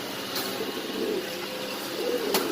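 Pigeons cooing at a pigeon market in Mirpur, a soft continuous murmur of coos close by over a busy background hum, with a couple of brief sharp clicks.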